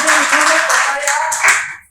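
Audience clapping at a wellness product presentation, a loud, dense burst of hands lasting a couple of seconds with voices mixed in.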